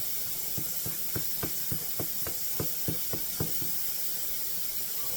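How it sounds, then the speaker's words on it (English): Homemade thousand island dressing whisked in a bowl, giving a steady series of light, evenly spaced clicking taps against the sides, about two per second, fairly quiet over a faint hiss with no talking. "I'm going to whisk it together."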